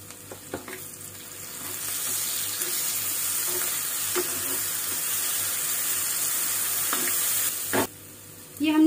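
Onion and ginger-garlic paste sizzle in a hot pan in a continuous, loud frying hiss, broken by a few stirring clatters and a sharp knock near the end.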